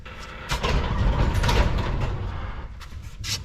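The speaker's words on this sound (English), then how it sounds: "Let me open up the door so you can get some better light." A wooden door opens indoors with a single sharp creak, then a louder sustained scraping slide, ending in fainter rattles.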